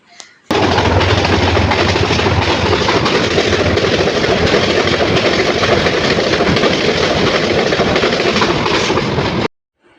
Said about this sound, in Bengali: আসতেই আরেকটা ট্রেন চলে আসছে